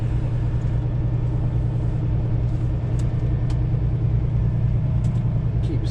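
Semi truck idling and creeping while swinging its trailer around to back in, a steady low diesel rumble held close and constant throughout, with a few faint high clicks or squeaks over the top.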